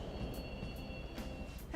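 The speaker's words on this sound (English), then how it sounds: "The trains are totally running." A subway train in the Persona 5 game rumbles low and steady with a faint high whine and soft periodic clacks, heard quietly and alone.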